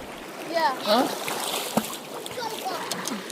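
Pacific Ocean water splashes and swishes close by as someone wades in against a strong push of cold surf at Tanna Island, Vanuatu, with faint voices briefly in the background.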